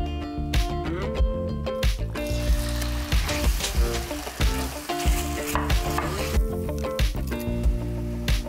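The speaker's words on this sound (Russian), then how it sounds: "А вот на этой сковороде быстро обжарю курятину в обычном растительном масле." Chicken sizzles in ordinary vegetable oil in a frying pan, with a constant crackle and repeated scraping and stirring strokes throughout, close by and without talk.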